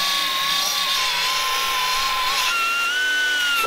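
An electric grinder steadily grinds out spot welds on the rusted roof of a lifted limousine, a loud, continuous abrasive roar with a high whine whose pitch dips and then shifts as the load changes.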